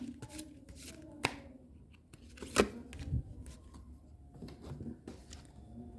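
Tarot cards being shuffled and handled by hand, soft riffling and a few sharp slaps and taps in a quiet room, close and faint.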